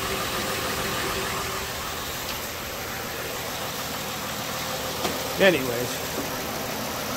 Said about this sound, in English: Looks like we've got a little exhaust leak further down.